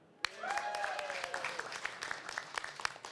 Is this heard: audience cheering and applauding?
yes